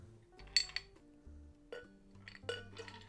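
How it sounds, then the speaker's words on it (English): A pink champagne-style NYE cocktail is strained from a shaker into a glass, with light metallic clinks and taps of the strainer and shaker, close and quiet, under soft background music. "Now you're going to strain it into your glass."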